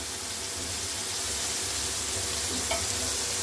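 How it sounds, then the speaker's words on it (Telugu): Potatoes fry in a pan as a steady, loud hiss of oil with no break, and a faint stir or clink of a utensil comes near the end. "ఆలు వేస్తున్నా."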